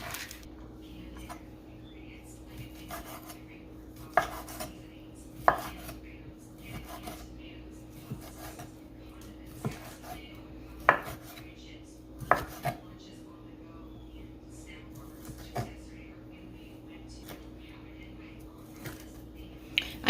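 Spicy andouille sausage being cut up on a board, sharp knife chops spaced irregularly over a low steady hum, close and fairly quiet, with soft murmured speech and faint clinks of kitchenware.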